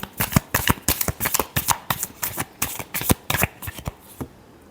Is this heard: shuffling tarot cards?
yes